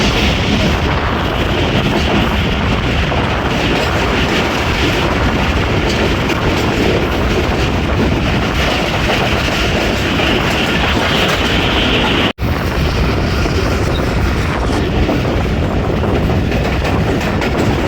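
The Jaffar Express rolls through Taraki railway station on a foggy winter day, a loud, continuous rumble and rattle of wheels on track heard up close, with one sharp break late on.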